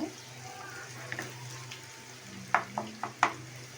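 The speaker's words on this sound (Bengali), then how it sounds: "এখন আমি এগুলো একটু তেলে ভেজে নেব কাঁচা গন্ধটা চলে যাওয়ার জন্য" Green chilies and raw onion frying in oil in a pan, a steady low sizzle with a few sharp clicks and scrapes of a spoon near the end.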